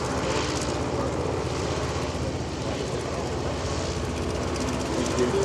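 A Goodyear Blimp's aft engine drones steadily and close by during flight, a continuous even hum and rumble with no break across the stretch.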